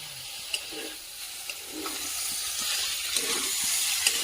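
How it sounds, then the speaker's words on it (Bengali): Vegetables and mustard paste stirred in a hot frying pan for a Bengali cauliflower-stalk chorchori, giving a steady sizzle with soft scraping strokes of the spatula at intervals, close and moderately loud. "দিয়ে কিন্তু খুব ভালো করে সব সবজির সঙ্গে মিশিয়ে নেব"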